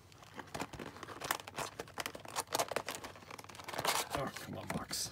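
Cardboard of a 2018-19 O-Pee-Chee Platinum hockey card hobby box crinkles and tears as it is opened, a close, busy stream of rustling and ripping with a voice talking over it.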